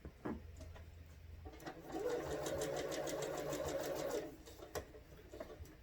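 A sewing machine stitches fabric strips for string-pieced patchwork in a short, steady, close-up run of about two seconds, framed by scattered clicks and handling noises in a quiet room.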